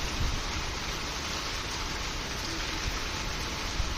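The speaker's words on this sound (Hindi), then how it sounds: "और फिर तेज़ बारिश हो गई है।" Heavy rain falls steadily in a monsoon downpour, a dense, even hiss of broadband noise that stays constant throughout with no voices.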